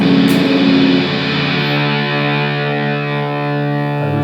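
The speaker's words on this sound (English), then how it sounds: "I never use it with the fuzz all the way up, but it does sound good" Heavily distorted, buzzy electric guitar tone through a Hoof fuzz pedal with fuzz turned all the way up sustains a single chord, loud and fuzzy, ringing out alone with no talking.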